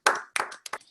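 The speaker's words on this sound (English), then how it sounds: "give Nico a round of applause" Online meetup attendees clap for a presenter after a Kubernetes CI/CD session, three short bursts of close hand clapping from a few people, each sharp onset quickly fading, with brief gaps between.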